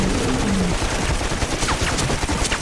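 Gunfire from a creature-feature action scene as a character fires at a shark-octopus hybrid, loud dense bursts of shots over a constant roar of background noise, with no talk.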